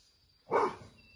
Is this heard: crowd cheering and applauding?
no